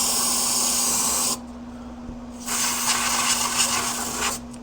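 Bursts of cleaner sprayed during service on a 2006 Polaris Hawkeye ATV, a loud steady hiss for over a second, a pause, then a longer second spray, close by over a low constant hum.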